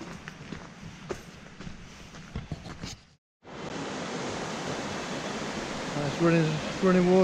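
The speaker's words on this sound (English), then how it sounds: "Running water sound." After a brief cut, a steady broadband rush of flowing stream water near a path under a railway on Moel Hebog fills the scene, with a voice speaking briefly over it near the end.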